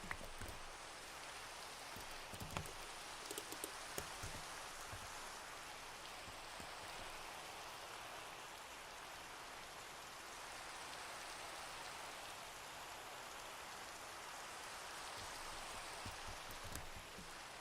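Steady rain falls in Minecraft, a constant soft hiss of drops with a few faint ticks near the start, even and unbroken throughout.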